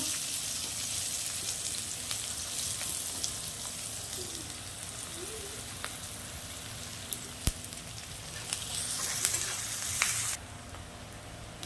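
Chopped onions frying in hot oil after potatoes were fried in it make a steady, crackling sizzle with occasional sharp pops and a few stirring scrapes, close by and continuous.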